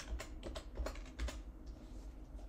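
A short burst of keyboard typing into a search box in a web console, a few soft, close keystrokes over a faint background hum.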